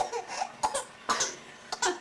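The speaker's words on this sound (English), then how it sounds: "she quite likes coughing" A baby girl lets out a string of short, breathy coughs and squeaky vocal sounds in quick bursts, close and fairly soft, with no talking.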